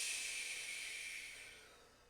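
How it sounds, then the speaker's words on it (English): One long, steady exhale of deep breathing during a core exercise on a mat, a soft airy hiss that slowly fades over about two seconds, close and quiet, with no talking. "2 more breaths."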